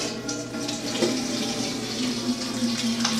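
Liquid pours steadily into a container in a home kitchen during mozzarella cheesemaking. A continuous splashing, gurgling stream runs close and fairly loud throughout, with no talking.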